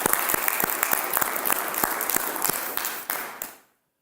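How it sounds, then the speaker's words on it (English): Church congregation at a Sunday service applauding military veterans: a burst of fairly close, scattered clapping with individual sharp claps standing out, holding steady for about three seconds and then cutting off abruptly. "We applaud you."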